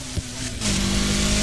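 In the Need for Speed Heat video game, a car engine holds high revs. Its loud, steady drone climbs and fills out after about half a second, then stays constant to the end.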